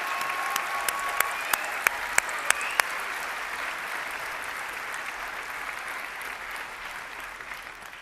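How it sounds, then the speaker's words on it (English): Audience applause greets Mexico's President Claudia Sheinbaum at the FIFA World Cup draw, a broad steady wash of clapping from a large crowd with a few sharp camera-like clicks early on, holding evenly for the whole stretch. "un gran aplauso a la presidenta de México, Claudia Sheinbaum"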